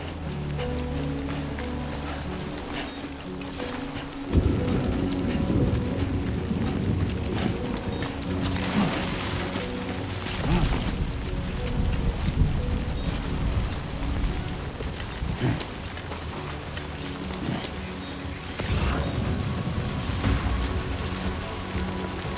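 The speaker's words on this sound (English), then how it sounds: "Great. Rain." Rain falls in the video game Death Stranding 2 as a dense, steady hiss of drops. It is loud and continuous, with occasional surges and heavier patches of patter throughout.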